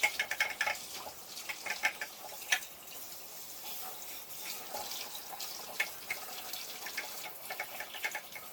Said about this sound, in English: Take it to the sink. Use my magic sprayer.